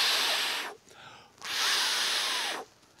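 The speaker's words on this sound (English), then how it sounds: "That's the sound of blowing on hot food." Someone blows on hot food to cool it: two long, breathy puffs of air close to the microphone, separated by a brief pause.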